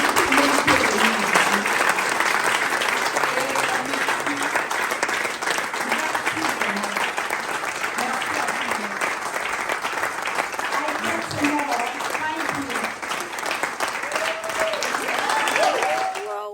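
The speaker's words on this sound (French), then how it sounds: "je vais vous demander d'applaudir une minute pour nous, pour vous et pour tout le monde" A large audience at a business speakers' event applauds steadily for the whole stretch, a dense continuous roar of clapping with faint voices and cheers mixed in.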